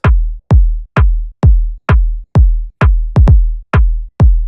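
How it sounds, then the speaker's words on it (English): A punchy electronic drum loop programmed in Ableton Live for an organic house beat hits in an even, steady rhythm, each loud, close strike decaying quickly, with one quick doubled hit near the end. "the snares will be on the 2 and 4"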